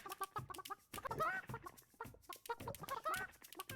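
Chickens cluck in rapid, choppy bursts in the video game Burly Men at Sea, a brief, close, busy stretch of fowl chatter.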